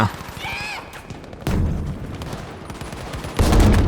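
Explosions and rapid gunfire in the video game Battlefield V thud and crackle in bursts, with a voice speaking over the noisy battle.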